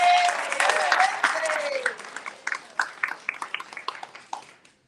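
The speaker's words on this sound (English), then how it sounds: "Give yourselves a round of applause for being here today." Audience applause at a Women Wednesdays gathering about the Tallahassee micro-brew scene, starting as a dense wash of clapping over a voice, then thinning to a few scattered claps before fading out.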